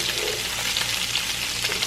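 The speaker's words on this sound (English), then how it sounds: "I got my sauce over here still simmering away" Tomato sauce for spaghetti and meatballs simmers in a pot, giving a steady close bubbling hiss with soft irregular pops throughout and no voices.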